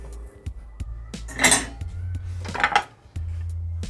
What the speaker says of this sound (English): Now I'm ready to add my cooled down veggies that I have prepared